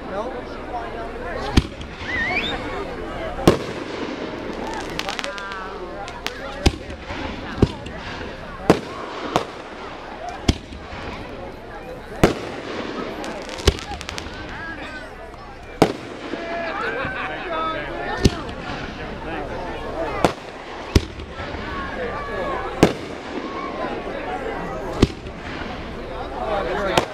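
Fireworks at the Bear River Cherry Carnival, a string of sharp booming bursts spaced a second or two apart over a steady outdoor crowd murmur, with people talking nearby throughout.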